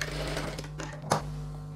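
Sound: sewing machine stitching chudidhar top pieces

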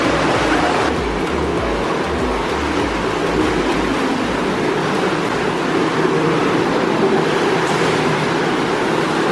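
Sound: indoor pool waterfall running

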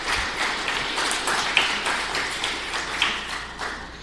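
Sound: audience applause at a live stream talk

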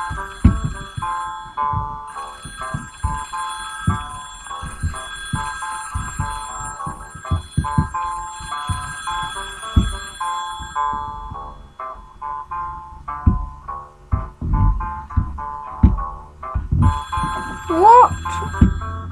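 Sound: telephone ringing in a cops and robbers video game

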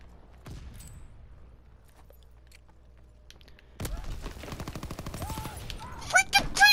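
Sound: gunfire in a video game

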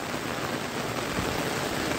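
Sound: heavy rain falling outside

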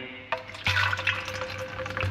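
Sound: car shine liquid poured into measuring cup

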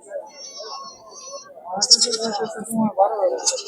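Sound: goat bleating at a goat market

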